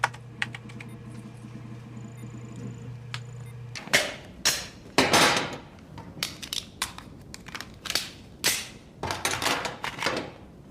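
Gunfire in a TV drama scene comes as a string of sharp, loud cracks in irregular bursts, following a quieter humming stretch at the start.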